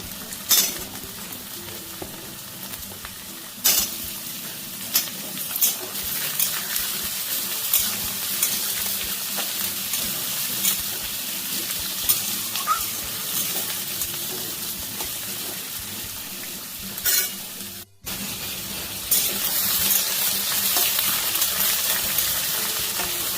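Cut potatoes and papaya fry in a pan for a quick chicken dish, giving a steady close sizzle broken by occasional scraping stirs, with no talking.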